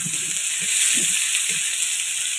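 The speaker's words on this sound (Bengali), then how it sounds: "সবজিগুলো একটু ভালো করে ভেজে নেবো লাল লাল করে" Vegetables frying in hot oil in a wok with onion and chilli, a soft, steady sizzle and hiss carrying on evenly, with faint stirring bumps near the start.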